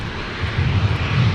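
Qantas airliner rumbling at Brisbane International Airport, a steady low jet roar that swells slightly louder toward the end, with no talking.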